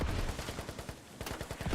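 Rapid bursts of automatic gunfire in the tactical shooter Squad during an esports tournament match, a steady run of sharp repeated shots with a brief lull partway through.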